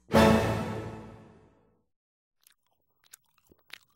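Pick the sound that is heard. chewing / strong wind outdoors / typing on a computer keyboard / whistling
chewing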